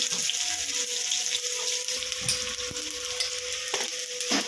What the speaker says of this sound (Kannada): ಈಗ ಈರುಳ್ಳಿ ಹಾಕ್ಕೊಳ್ಳೋಣ ಈರುಳ್ಳಿ ಸ್ವಲ್ಪ ಕೆಂಪಗಾಗೋವರೆಗೂ ಫ್ರೈ ಮಾಡ್ಕೊಳ್ಳೋಣ